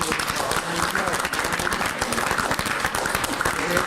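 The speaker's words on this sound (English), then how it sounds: "can we please give a round of applause for everyone who was involved" A room full of people applauds steadily, dense clapping sustained throughout at a fairly loud, even level.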